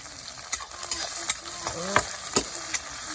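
Chopped garlic and ginger sizzle in hot oil for a mushroom curry, a steady frying hiss with repeated scraping stirs of a spoon against the pan, close up.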